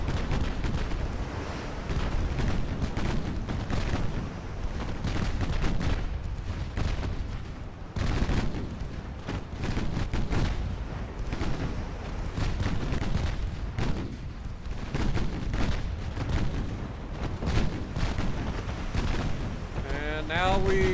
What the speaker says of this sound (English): our secondaries are firing at the warships